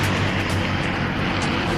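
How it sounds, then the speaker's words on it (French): P-51 Mustang fighter planes taking off from Iwo Jima, a loud, steady, dense propeller-engine roar filling the whole moment with no talk. "Des Mustangs du 47e Fighter Squadron décollent de l'île d'Iwo Jima"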